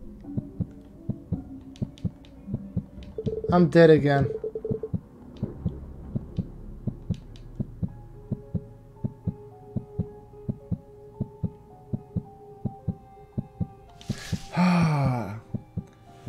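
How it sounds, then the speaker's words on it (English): A steady heartbeat thuds through the Paper Lily video game, a regular rhythmic pulse running the whole time, with a gasp-like voice near the start and another short vocal burst near the end. "Heartbeat."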